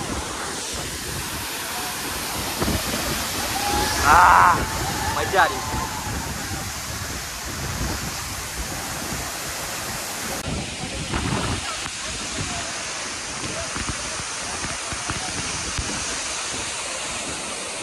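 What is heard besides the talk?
waterfall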